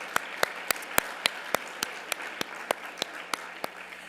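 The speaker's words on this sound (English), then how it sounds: "Give her another round of applause this evening." At a Hall of Fame awards ceremony, an audience claps in a steady, evenly spaced rhythm, each crisp clap standing out over a low murmur of room noise.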